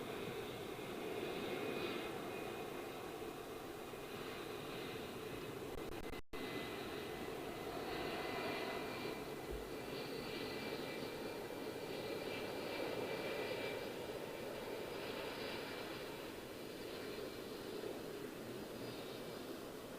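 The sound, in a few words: jet airliner departing Heathrow Airport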